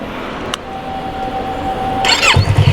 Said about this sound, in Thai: เดี๋ยวเรามาสตาร์ท ฟังเสียงท่อเสียงเครื่องยนต์นะครับ